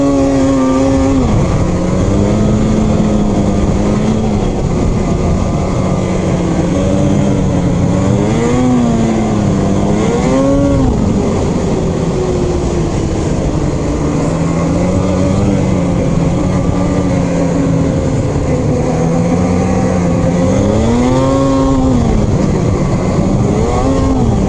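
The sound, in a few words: Arctic Cat Riot and Polaris 850 Patriot snowmobiles riding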